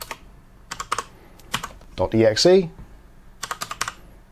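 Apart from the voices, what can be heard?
computer keyboard typing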